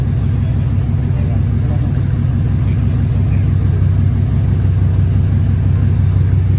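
A restored 1957 Ford F250 engine idles loudly and steadily up close, a continuous low rumbling drone with an even, throbbing pulse.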